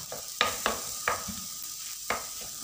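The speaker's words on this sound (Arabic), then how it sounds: "هاهي هو الدنجال بدا فيه تشوى" Eggplant frying in a pan gives a constant soft sizzle, broken by several sharp scraping knocks as the pieces are stirred or turned.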